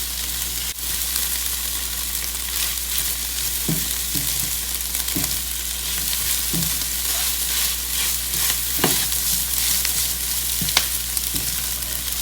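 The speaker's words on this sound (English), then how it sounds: "I just want to scramble it a bit. Keep stirring on low heat" Eggs scramble in a pan over low heat while being stirred, a constant even sizzle broken by several distinct spatula scrapes against the pan, with no talk.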